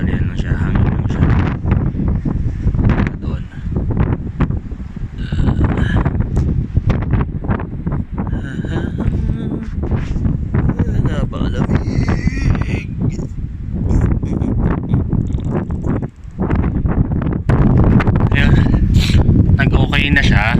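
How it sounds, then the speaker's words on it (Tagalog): Strong wind blows across the mountaintop of Mt. Sto Tomas in Benguet, roaring and buffeting the microphone steadily throughout, with people talking close by under the gusts. "Hangin lang siya."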